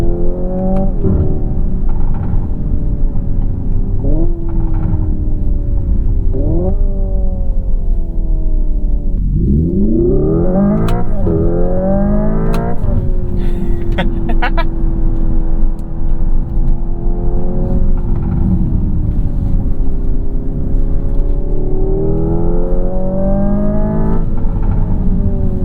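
A 2025 Hyundai IONIQ 5 N electric car driving up a road, with a synthetic engine-like tone rising and falling through repeated shift-style steps, then one strong surge partway through, steady and close inside the cabin.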